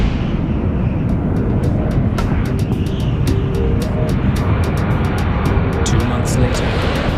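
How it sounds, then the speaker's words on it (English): A Pan Am jet airliner taking off from Heathrow Airport roars as a loud, continuous, rumbling engine wash with low-frequency power and steady intensity throughout, overlaid by repeated faint clicking ticks. "The jet has just taken off from Heathrow Airport."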